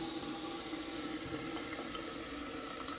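Water runs steadily from a hotel bathroom lavatory sink faucet, a constant close hiss with no voices, holding an even level throughout.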